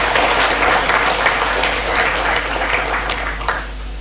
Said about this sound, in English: Can we clap hands for the registration?